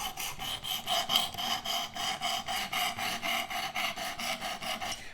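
A knife blade is drawn over a grit on a Work Sharp Precision Adjust Elite sharpener in steady back-and-forth strokes, about three per second, giving a quiet, close scraping rasp with no voices.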